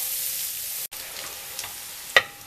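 Onion and garlic frying in a pan, a steady broadband sizzle with no talk, briefly cut off once before continuing, with a couple of small stirring clicks near the end.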